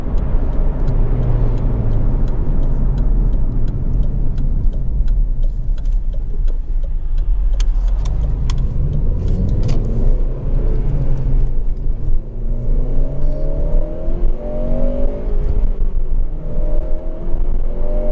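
A Honda Civic Type R GT 2.0 i-VTEC engine runs steadily with a low rumble, rising into smooth revving toward the end, close and loud, with no talking.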